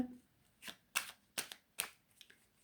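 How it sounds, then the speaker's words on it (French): Angel oracle cards are shuffled by hand in four quick, crisp riffling bursts spaced about half a second apart, close and quiet in an otherwise still room. "maintenant, je vais prendre une carte de l'oracle des anges"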